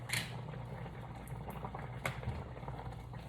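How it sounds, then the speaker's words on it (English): Water bubbles and simmers at a low, steady level, with occasional soft pops and clinks close by. "since it's already boiling"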